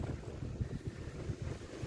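Strong wind buffets the microphone of someone cycling outdoors on a cold day, a rough, gusty low rumble that rises and falls with no voices.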